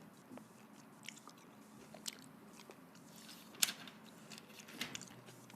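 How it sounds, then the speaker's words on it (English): Two pieces of gum chewed close to the mic in an ASMR setting, with soft wet smacks and a few sharper crunchy bites scattered over a quiet background, no talking. "I'm going to do 2 pieces of gum for you guys."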